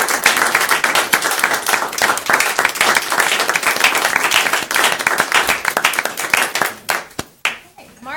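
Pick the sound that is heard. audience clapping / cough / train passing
audience clapping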